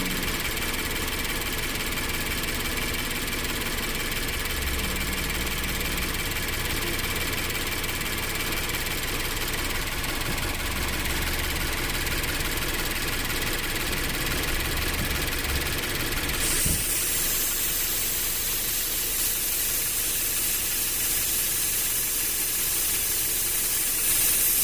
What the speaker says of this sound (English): You heard the idle change.